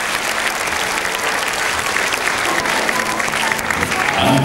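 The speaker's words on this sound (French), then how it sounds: "Thomas Andergassen applaudi par le public allemand" A German crowd at a 2006 Cottbus European Championships pommel horse competition claps steadily for a gymnast, a thick continuous wash of applause that swells slightly at the end.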